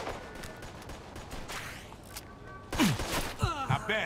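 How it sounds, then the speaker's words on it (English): Gunfire in the Mafia II video game, scattered shots and bursts ringing out at mid distance over a busy game soundscape, with a voice talking briefly near the end. "I'm running away and Joey's still shooting at them"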